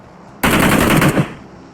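Loud close burst of rapid automatic gunfire from an M4 rifle in the PUBG Mobile video game, lasting under a second with no talk.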